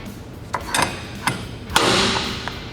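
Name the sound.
tube bender vise snapping back into place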